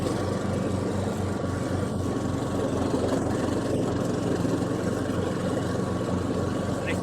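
A Club Garden CG 98 M SD ride-on mower drives uphill in second gear on a slope. Its engine gives a steady, close, continuous drone with a low throbbing pulse, unchanging in loudness throughout.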